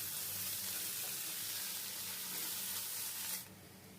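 Ginger garlic paste added to onions frying in a pan, a loud, dense, close sizzle that holds steadily, then drops sharply to a quieter sizzle near the end, with no talk.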